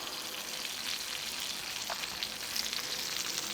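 A pork chop fries and browns on a coal shovel, giving a steady, close crackling sizzle with scattered sharper pops throughout.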